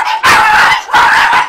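Dogs on a rural property barking loudly and close by, with two sharp bursts of barking separated by a brief pause.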